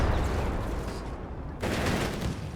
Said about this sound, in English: Roof giving way there to the heavy gunfire of the M8 Greyhound there.